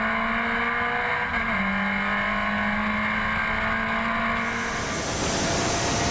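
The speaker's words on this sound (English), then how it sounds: "35 vintage MG race cars coming down the front straight" Thirty-five vintage MG race cars roar down the front straight at Grattan Raceway in a continuous loud rush of engines, pitches shifting as the pack passes, with no voices.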